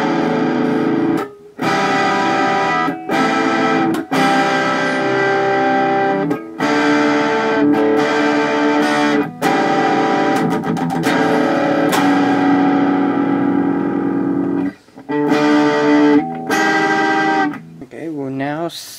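Electric guitar played through a Boss DS-1 distortion pedal at regular settings, with distortion and tone turned partway up. Thick, buzzing sustained chords and riffs ring out loudly, broken by short silent gaps between phrases.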